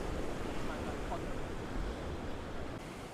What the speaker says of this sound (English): the waves are massive down there